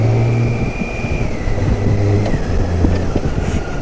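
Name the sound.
motorcycle engine revving during clutchless gear shifting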